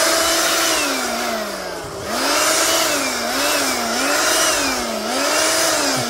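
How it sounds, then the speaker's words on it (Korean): A cordless leaf blower clearing soil after weeding roars steadily close by, its pitch rising and falling in waves as it revs up and eases off, with no voices. "이럴 때는 다, 이 송풍기로."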